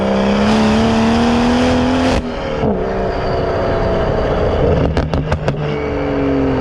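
A manual BMW M140i tuned to Stage 3 accelerates hard, its engine note climbing through the revs before a gear change, then building again with a quick burst of sharp pops and crackles, loud and close.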